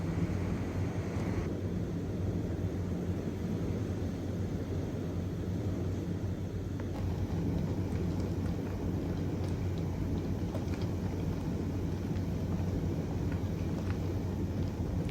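A rainstorm with thunder in Texas rumbles low and continuous, with steady rain hiss over deep rolling thunder throughout, fairly close and unbroken, and no one speaking.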